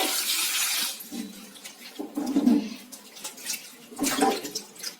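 Goat legs being scrubbed and washed by hand in water, with irregular bursts of splashing and sloshing close by, separated by quieter gaps.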